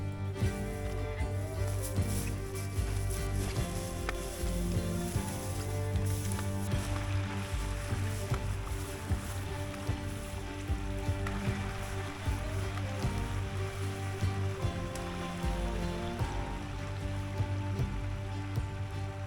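A forest stream gives a continuous rushing, trickling babble of flowing water, steady and fairly close, with no talk.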